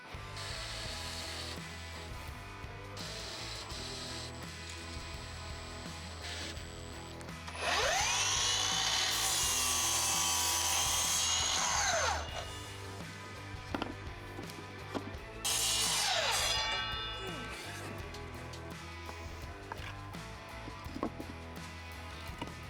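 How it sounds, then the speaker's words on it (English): Screws are driven into a wooden top with a power driver in two high whirring bursts of several seconds each, the pitch climbing as each screw bites, among quieter workshop clicks and handling noise. "put 2 screws in here, maybe 1 in the middle, and that should be sufficient."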